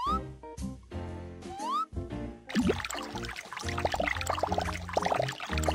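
Cartoon water pouring to rinse soap bubbles off a character: a few short whistly musical tones, then a steady, splashy gush of pouring water that continues to the end.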